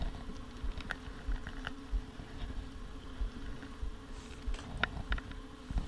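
Honey bees hum and buzz in a steady low drone around an open beehive, with faint scattered patter and close passing buzzes, no talk.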